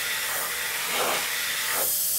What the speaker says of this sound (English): the airbrush can let out air and material